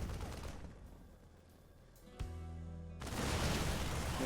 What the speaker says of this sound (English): Tank will be taking some shots.